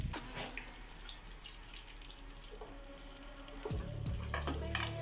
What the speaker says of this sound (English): So we allow this to fry thoroughly.